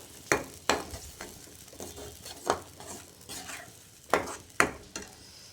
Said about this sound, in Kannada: ಇವಾಗಿದು ಚೆನ್ನಾಗಿ ಕುದೀತಾ ಐತೆ.